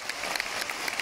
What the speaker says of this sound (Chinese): 哎，给我一点掌声。